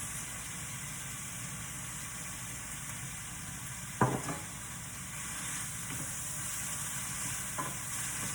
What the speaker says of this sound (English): Now I'm going to add the bean sprouts. And the green onions.